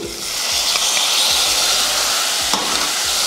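Tomatoes with turmeric sauté in a hot pan, giving a loud, continuous close-up sizzle and hiss with light stirring scrapes throughout.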